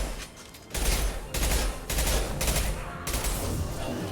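Gunfire in the video game Mass Effect Legendary Edition: loud, sustained automatic bursts in several long volleys separated by brief gaps, dense and close, with combat noise throughout.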